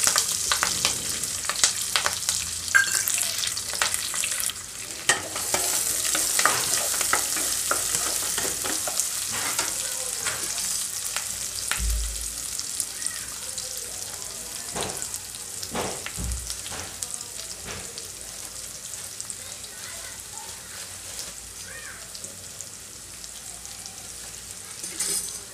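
Finely sliced onions fry in hot oil for a tempering with curry leaves, a steady crackling sizzle with occasional stirring scrapes and clinks, close and continuous, with no talking.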